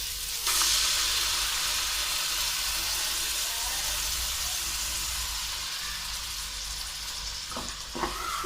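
Masala sizzles in a pan over low heat after yogurt is stirred in, a steady, hissing fry that holds evenly and fades slightly, with a couple of soft clinks near the end.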